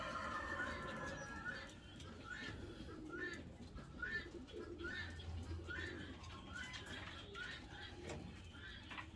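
Several soft, rhythmic pigeon coos repeat at a steady pace as the bird is held for fitting a leg band, with faint handling rustle underneath.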